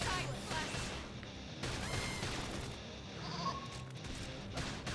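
Sheep-like enemy creature bleating in the video game Xenoblade Chronicles X, short bleats rising over busy game music and battle noise, with occasional impact sounds.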